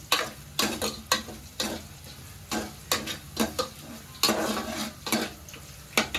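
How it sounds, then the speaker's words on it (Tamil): Carrot and beetroot curry sautéing in a pan over a medium flame, a constant close sizzle broken by repeated scraping strokes of a spoon stirring against the metal. "அது கொஞ்சம் நல்லா வதங்கட்டும்."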